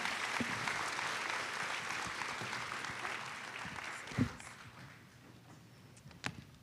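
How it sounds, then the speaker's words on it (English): A small audience at a parents and supporters orientation claps steadily, fading gradually, with a couple of sharp knocks near the end; fairly quiet and distant. "maybe a warm round of applause for them one last time"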